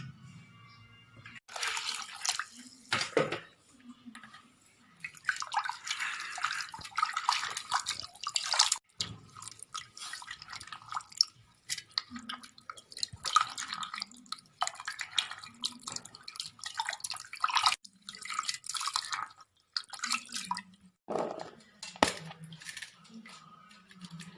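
Tap water runs and splashes intermittently as cut potatoes are rinsed in a vessel, producing irregular close clatters, drips and sloshing bursts with gaps between. A voice speaks faintly at times.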